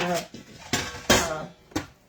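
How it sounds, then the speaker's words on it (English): Two big old metal baking pans clank and scrape as they are handled in a home kitchen, giving several loud close knocks with someone talking over them. "I'm going to go ahead and use these two big old pans I've got here."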